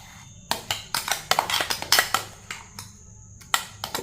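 Ground coriander is stirred into curd chutney in a bowl, giving a string of sharp spoon clinks and scrapes against the dish, close by and irregular, with quiet pauses between strokes.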